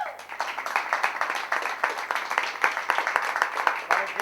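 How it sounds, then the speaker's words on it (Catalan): An audience claps for Estel at a youth theatre group's open-stage show, a dense, steady round of applause from many hands that carries evenly from start to finish. "Un aplaudiment per l'Estel"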